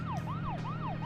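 A police car siren in the video game Deadly Premonition wails in steady rising and falling sweeps, loud and continuous over a low engine drone.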